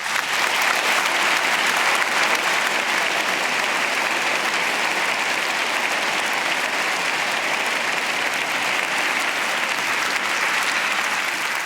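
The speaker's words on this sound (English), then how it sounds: "Please give them a warm round of applause." A concert-hall audience at the Prix de Lausanne ballet competition finals breaks into sustained, dense applause, steady and loud for the whole stretch with no talking over it.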